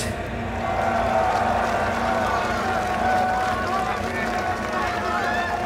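Large open-air crowd at the splash! hip-hop festival roars and cheers in a steady, dense wash of noise that carries on throughout, with voices and music blending in.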